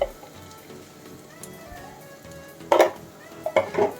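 A spoon stirring chili powder into veg pulao cooking in a pot, with a faint sizzle underneath and then a few sharp metallic scrapes and clinks against the pan toward the end.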